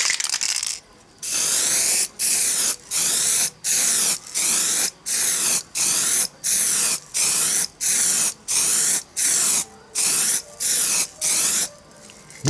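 Aerosol spray paint can misting onto a car body panel at home, about a dozen even bursts of close, loud hiss separated by short silent gaps as the nozzle is pressed and released.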